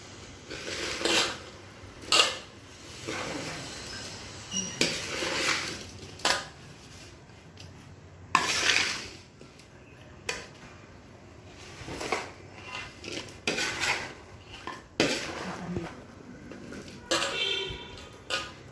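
Homemade village-style pickle being stirred and mixed with utensils, with intermittent clinks and scrapes of metal against a pot or dish at an irregular rhythm, fairly quiet and close.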